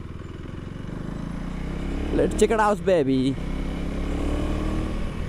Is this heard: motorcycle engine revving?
yes